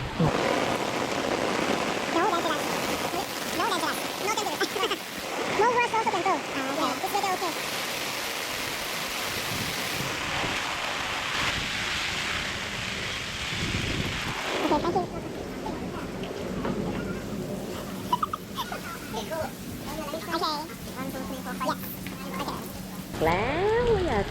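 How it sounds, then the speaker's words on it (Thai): Heavy rain falls steadily on a Maldives island resort. The dense, continuous hiss of downpour on surfaces runs throughout, with people talking over it. "ฝนตกหนักมาก"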